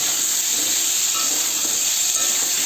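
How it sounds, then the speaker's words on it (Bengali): Potatoes fry in hot oil with salt and turmeric, producing a constant, even sizzle and hiss that stays at the same level throughout with no voices. "এবার আলুগুলো দিয়ে দেবো তেলে এর মধ্যে আমরা এখন পরিমাণ মতো নুন হলুদ নাড়িয়ে নেবো একটু ভাজা ভাজা করে নেবো"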